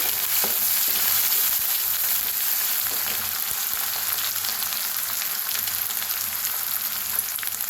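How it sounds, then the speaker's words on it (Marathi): Crushed green chilli and garlic with a pinch of asafoetida roast in oil in a pan, giving a loud, steady sizzle with light scraping from stirring throughout. "कुटून घेतलेली हिरवी मिरची आणि लसूण छान असं भाजून घेऊया"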